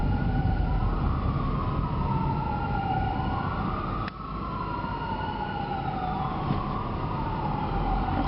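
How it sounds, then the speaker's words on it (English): Emergency vehicle sirens wail from outside a car, rising and falling in long sweeping tones that stay loud and steady throughout, with a brief click partway through and no talking. "Now I hear doggone sirens."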